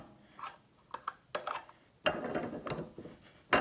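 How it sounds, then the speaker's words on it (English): Small 1-ton press setting rivets in a kydex holster, giving a few sharp clicks and clacks followed by a brief grinding crunch, close and fairly faint, with a final snap at the end. "it's connected to a little 1-ton brace, or press"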